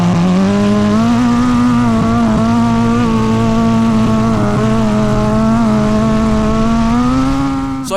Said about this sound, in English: I get to rip an F1 car on the sand today.